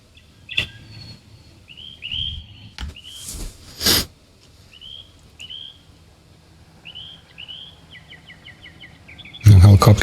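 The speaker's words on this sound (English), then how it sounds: "Some birds." Several short bird calls and chirps from a sampled horror film excerpt, Night of the Living Dead, repeating in quick clustered bursts over a low background rumble, with a few sharp knocks and a loud noisy burst at the end.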